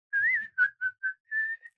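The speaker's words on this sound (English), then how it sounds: "Because I just sometimes whistle while you work." A person whistles a short, clear tune of six notes, a long held note, quick short ones, then another held tone, close and alone in a quiet room.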